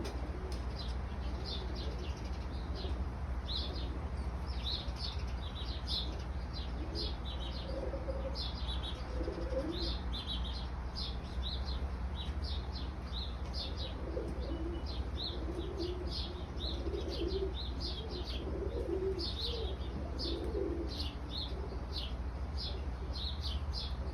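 A flying kit of pigeons coos softly and continuously nearby, low repeated coos mixed with high chirps and the occasional flutter of wings, with no talking.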